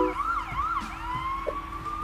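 An ambulance siren wails in rising and falling sweeps over distant traffic noise in a traffic jam in China, moderately loud and steady.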